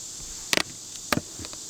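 Honey bees in a hive colony hum in a steady, high buzzing drone, broken by a few sharp knocks and clicks close by.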